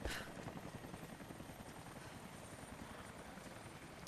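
A helicopter in the Rise of the Tomb Raider video game, its rotor thumping steadily in a continuous low chop, fairly faint and unchanging across the clip.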